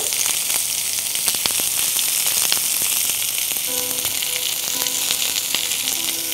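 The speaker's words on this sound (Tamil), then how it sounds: "இது எல்லாத்தையும் சேர்த்து நல்லா நம்ம வதக்கி சாஃப்டாக வர அளவுக்கு எடுத்துக்கலாம்" Sliced onions with fennel seeds and cumin sauté in an oiled pan for a chicken gravy, giving a loud, continuous sizzle with crackling pops and the occasional clink of stirring.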